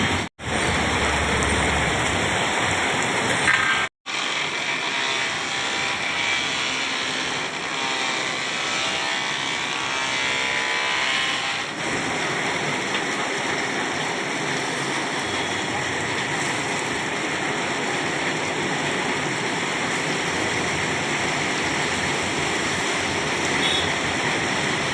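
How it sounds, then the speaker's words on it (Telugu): Heavy rain pours down in a steady, dense hiss that fills the whole stretch, loud and continuous with a brief dropout near the start and a slight change in texture midway. "ఫుల్ వర్షం పడుతుంది"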